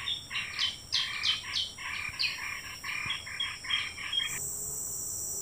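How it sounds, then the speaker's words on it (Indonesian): Many birds call in a forest during a squirrel hunt, a dense run of repeated chirping notes in quick rhythmic bursts at moderate distance, over a faint constant insect-like hiss that continues alone at the end. "Biasa kalau suara burung banyak ini ada sesuatu yang mereka gonggong kan kawan?"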